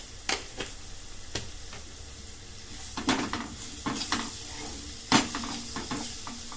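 Finely chopped tomatoes and a spoonful of salt being stirred in a frying pan while cooking a drumstick curry, with scattered utensil clinks and scrapes against the pan and a faint sizzle underneath.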